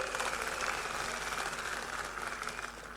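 Crowd applause at a political rally, a steady wash of many hands clapping at moderate distance, continuous for a few seconds and thinning slightly near the end.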